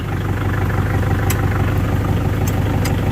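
A vehicle engine in the Free Fire MAX game runs at a steady, loud, low idle with an even throbbing rumble and a few faint higher clicks over it, with no speech.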